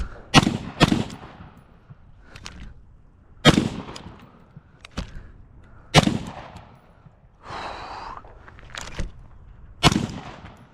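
MK18 rifle firing at the range, sharp loud shots in irregular singles and quick pairs, each with a short echoing tail, one brief mechanical whir between them.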